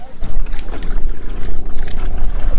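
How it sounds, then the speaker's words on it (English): A canoe is paddled out across a lagoon off Santa Cruz Island, with loud rumbling water and wind buffeting the microphone in a continuous choppy wash; no talk is heard. "We're going out onto the lagoon and we're being paddled there by Lady Anne, our beautiful paddler."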